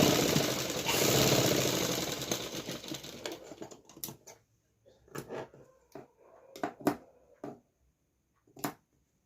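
A sewing machine stitches a suit, its dense running whir giving way to short separate bursts of stitching and clicks, close and fairly quiet, with no speech.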